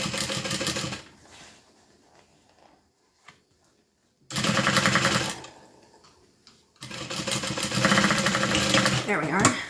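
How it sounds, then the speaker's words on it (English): Sewing machine top stitching the bottom of a quilted bag, running in three loud bursts with quiet pauses between where faint handling sounds occur. "we're just top stitching the bottom"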